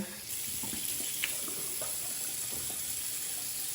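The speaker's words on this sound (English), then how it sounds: "It's just lukewarm water." Lukewarm water runs steadily from a tap into a sink during face rinsing, a constant close hiss broken by soft splashes and drips as hands move through the stream.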